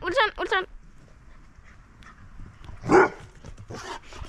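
Wilson the dog gives a quick pair of barks up front, then a louder bark-like burst near the end, mixed with rustling outdoor noise from someone riding with a camera.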